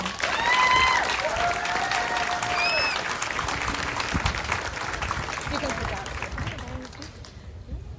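Sustained crowd applause at a high school graduation fills the room, steady and fairly loud, with a few voices and a whistle-like tone rising over it before it fades toward the end.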